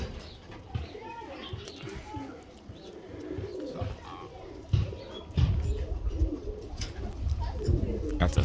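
Roller pigeons coo around a backyard loft, with soft repeated calls under nearby people talking and children's voices, plus occasional bumps and outdoor noise.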